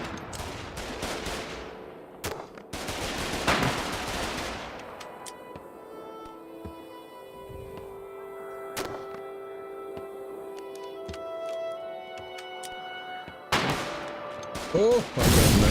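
A shootout in a video game, with bursts of rapid gunfire and scattered single shots over several seconds, interspersed with quieter ringing game sounds and some background speech.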